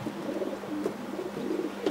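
Racing pigeons arriving back at the loft after a winter race coo softly and steadily nearby, a low burbling call repeating over faint background noise.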